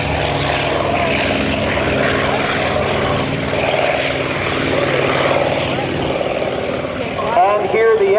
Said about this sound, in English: and here the F4U Corsair